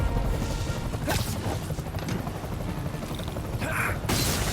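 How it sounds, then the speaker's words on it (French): Helicopter engines in the Spider-Man PS4 video game give a continuous loud mechanical roar with dense low rumble, overlaid by brief clanks and impact bursts. "Je vais devoir vous demander d'arrêter cet hélicoptère, monsieur!"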